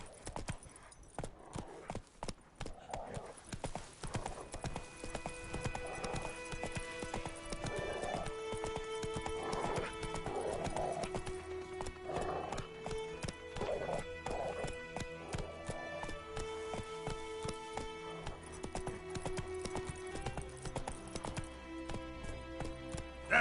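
Steady rhythmic hoofbeats of a galloping horse in The Witcher 3 video game continue throughout at low volume, with tonal game music underneath.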